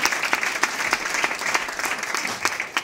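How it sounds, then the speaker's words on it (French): An audience at the unveiling of the Arte Flamenco 2019 festival poster claps steadily, a dense, even round of applause filling the whole stretch with no talk over it. "On peut vous applaudir."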